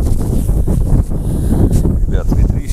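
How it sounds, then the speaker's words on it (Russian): Strong wind buffets the microphone outdoors during a metal-detecting coin hunt in a field, a loud, constant low rumble that runs the whole time, with a voice partly under it. "ветрище, извиняюсь"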